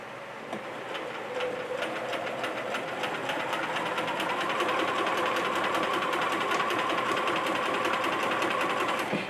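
A home sewing machine stitches fabric, including a stretch of reverse stitching, with a fast, steady mechanical whir and rapid needle ticking that runs without a break, close and clear.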